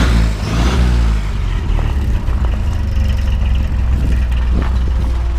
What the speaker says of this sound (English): Go ahead and rev it up just a little bit.